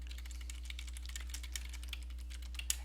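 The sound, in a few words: typing on a computer keyboard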